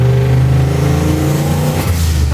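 A heavily modified Corvette engine making about 1000 horsepower revs loudly and steadily close by, a deep sustained roar with strong low harmonics that swells slightly near the end.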